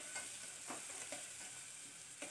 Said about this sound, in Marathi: छान परतून घेऊया कांद्याचा उग्र वाद जाईपर्यंत